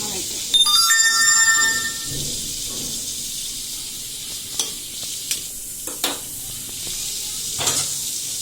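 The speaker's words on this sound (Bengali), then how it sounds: "আমার ভাজিটা যে সুন্দর হয়ে গেছে" A vegetable bhaji frying in a home kitchen pan, with steady faint sizzling and occasional stirring knocks, while a phone ringtone chimes briefly near the start.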